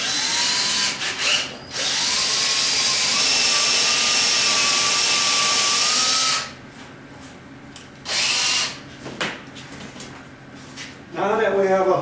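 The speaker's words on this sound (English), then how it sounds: "Using a brad drill, we actually can accomplish the same thing." A brad drill bores holes in wood for blind screws, whining steadily for several seconds, then stopping; a second brief burst follows, with faint talk in the pauses.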